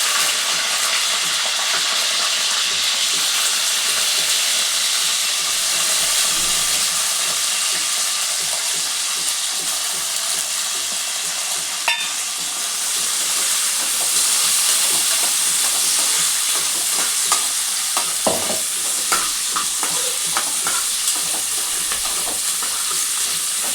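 Chopped green chillies fry in a pan for a mint tomato chutney, giving a loud, continuous sizzle with scattered pops and crackles and occasional scraping as they are stirred. No one speaks.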